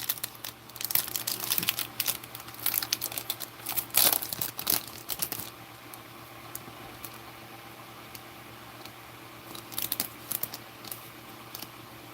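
Foil trading card pack torn and crinkled open, NBA cards inside, a burst of crackling rips and rustles in the first five seconds, then quieter handling with brief crinkles again near the end.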